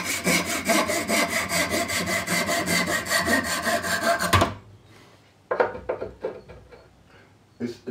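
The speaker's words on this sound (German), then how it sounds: "Das könnte man eigentlich jetzt direkt sägen." A hand saw cuts through oak for a roll holder, giving fast, even rasping strokes that run loud and close for several seconds, then stop, followed by a few scattered knocks and handling noises.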